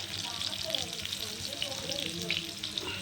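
A whole fish roasts on a hot tawa with a steady low sizzle, quiet and continuous, broken by small crackles and light scraping.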